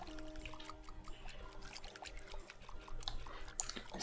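Crops being watered in a farming video game, a soft pouring and trickling water effect over light background game music, no talk.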